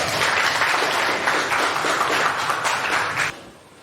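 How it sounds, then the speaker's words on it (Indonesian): Students applaud in a biology classroom lesson, giving loud, close, dense clapping that holds steady for about three seconds before stopping abruptly. "Berikan tepuk tangan dulu."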